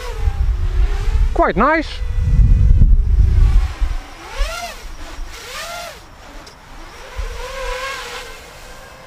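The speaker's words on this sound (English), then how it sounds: "I'm flying it on the stock propellers, no reason not to, them being Gemfan props" A Furibee DarkMax 4-6S FPV racing drone on stock Gemfan propellers whines through the air, its motor pitch sweeping sharply up and down as it throttles and banks. Someone talks briefly over it.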